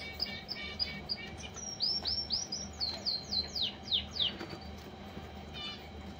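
Caged canaries singing a run of bright, rapid chirps and trilled whistles, several phrases rising and falling over a steady low background hum, moderately close.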